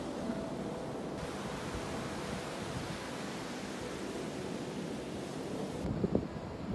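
Sea waves wash onto the beach at Pinamar, a steady broad rushing surf close by, mixed with wind buffeting the microphone.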